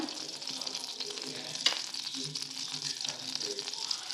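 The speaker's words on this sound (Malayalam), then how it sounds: "ആദ്യം ഒരു ചട്ടിയിൽ നമുക്ക് ബട്ടർ ഇട്ട് മെൽറ്റ് ചെയ്യാം." Butter melting in a pan at the start of sweet corn chicken soup, a soft steady sizzle, close but fairly quiet, with one brief clink and faint stirring.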